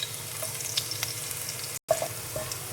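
Minced garlic sizzles and crackles in about three spoons of hot oil, a steady close frying hiss with small pops, briefly cut off by a moment of silence before resuming.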